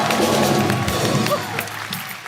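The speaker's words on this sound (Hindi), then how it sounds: "एक बार शंकर एहसान लो के लिए जोरदार तालियां।" Studio audience at a TV comedy show applauding in a dense burst of clapping that fades after about a second and a half, with some crowd noise mixed in.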